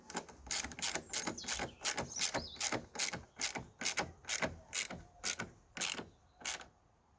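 A hand ratchet tightens a headlight bolt on a Ford Focus, making a fast, steady run of close clicking strokes that continues for several seconds with no speech.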